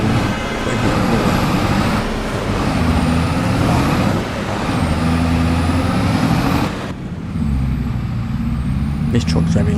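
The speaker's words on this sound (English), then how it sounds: "This truck's very loud. It's the loudest thing." A loud truck driving in Farming Simulator 25, heavy continuous engine roar with pulsing low rumble that briefly dips before resuming, and a person talking over it.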